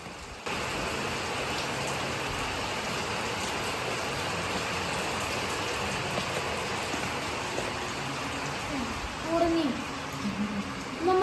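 Steady rain falling outside a passage at Vishalgadh, a continuous even hiss of drops on surfaces lasting throughout, with faint voices rising briefly near the end.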